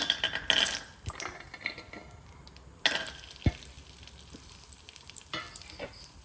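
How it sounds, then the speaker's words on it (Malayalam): Cashews and raisins fry in ghee over a very low flame, a soft steady sizzle broken by sharp scraping and clinks of a spoon stirring in the pan at a few points, with no talk. "ഇനി ഇതിലേക്ക് അണ്ടിപ്പരിപ്പും കിസ്മിസും നമുക്ക് വറുക്കാനിടാം."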